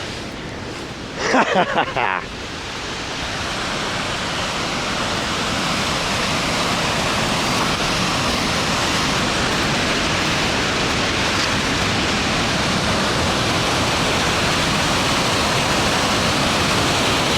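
Salmon Falls pours as a steady, dense roar of falling water filling the whole scene, loud and continuous, with a short burst of voice-like sound near the start.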